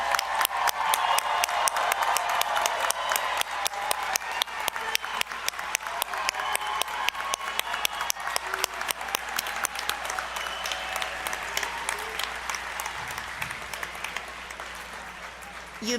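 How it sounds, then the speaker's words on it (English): A graduation audience at a college commencement ceremony claps for the new graduates, a sustained, dense round of applause with sharp individual claps, steady and fairly loud before gradually thinning near the end. "Now let's give our graduates a round of applause."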